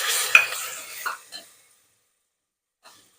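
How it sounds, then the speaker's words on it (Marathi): Potatoes, carrots and peas stirred and sautéed in a pan, with a spoon scraping and clinking against the metal and a soft sizzle for about a second and a half, then quiet apart from one faint tap. "गाजर, वाटाणे सर्व 1 मिनिटापर्यंत परतून घेऊ."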